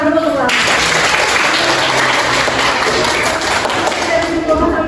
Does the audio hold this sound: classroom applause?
yes